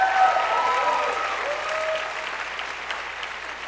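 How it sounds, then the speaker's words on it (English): Audience applause at a chapel gathering, steady and full throughout, with a voice briefly audible over it. "Round of applause, round of applause."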